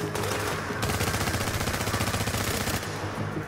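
Rapid automatic gunfire from the video game Tom Clancy's The Division in an underground mission, a loud, dense stream of shots running almost the whole time with a steady rattling rhythm.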